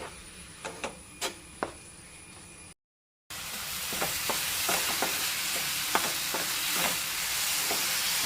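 A spatula scrapes and stirs a sweet filling of jaggery, flattened rice and coconut in a pan, giving a few distinct strokes, then a brief silence, then steadier stirring with a soft frying hiss underneath.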